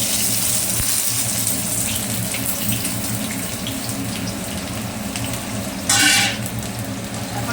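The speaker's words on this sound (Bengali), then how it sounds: "এখন আমি কুচি কুচি করে কিছুটা পেঁয়াজ দিয়ে দেবো।" Chopped onion frying in oil for a mutton curry gives a steady, close sizzle and hiss with a brief louder burst of spatter near the end, with no voices.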